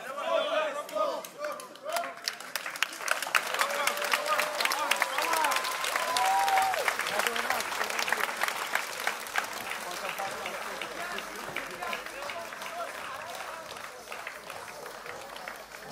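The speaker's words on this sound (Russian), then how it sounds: "бурная овация нашим бойцам" Audience at an MMA event applauding the fighters, dense sustained clapping from a crowd with chatter, fading slightly toward the end.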